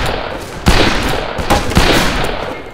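Gunfire in a shooter video game, with sharp, loud bursts of shots and a brief rattling volley, close and dense, with almost no pauses between reports.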